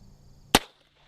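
A single sharp crack from an old-school .22 pistol, one short shot with a quick fade and nothing else around it.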